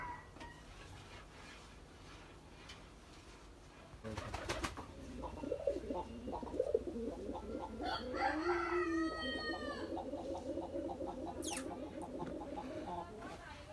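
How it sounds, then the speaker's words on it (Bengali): Pigeons, including young birds, call close by with throaty cooing and warbling that starts after a few quiet seconds, joined by a stretched, crowing-like fowl call and a busy mix of bird sounds. "কবুতর পাখি কি কি সিস্টেমে কথা বলে দেখুন"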